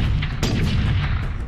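A heavy gunshot from the video game Space Marine, one loud booming blast with a dense rumbling low end that rolls on for over a second, close and alone without talk.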